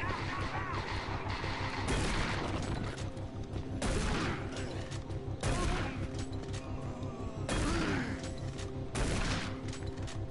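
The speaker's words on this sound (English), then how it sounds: "Shotgun." Shotgun blasts in Doom 3 go off as about five loud, evenly spaced booms, each followed by a short decay, over a continuous game background.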